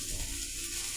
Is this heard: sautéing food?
yes